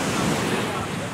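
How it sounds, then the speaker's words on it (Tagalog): Late-afternoon beach with surf and cool wind, a dense, steady roar of waves and gusts buffeting the microphone, loud and continuous over the short stretch. "Guys, nandito kami sa beach."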